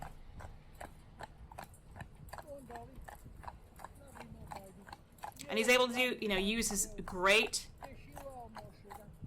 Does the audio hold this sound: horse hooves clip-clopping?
yes